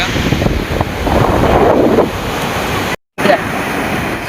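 Surf breaking on the open shore at Marina Beach in Chennai, a steady loud wash of large waves mixed with heavy wind buffeting the microphone, briefly cut out partway through.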